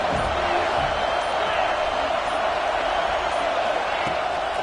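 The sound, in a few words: stadium crowd in a college football video game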